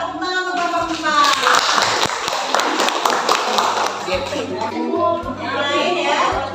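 Schoolchildren in a classroom clap for a group about to present, a lively burst of clapping mixed with children's chatter and a teacher's voice, fading as talk takes over.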